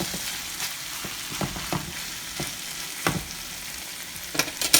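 Saltfish seasoned with black pepper fries in a pan, a continuous close sizzle broken by irregular stirring scrapes and a cluster of louder clatters at the end, with no talking.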